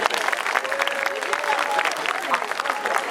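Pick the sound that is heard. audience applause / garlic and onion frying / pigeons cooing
audience applause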